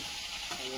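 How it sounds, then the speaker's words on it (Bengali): Fish sizzling in a hot pan on a gas stove at home, a brief, even hiss of frying with no voices. "না আমার মাছ ভাজা হচ্ছে"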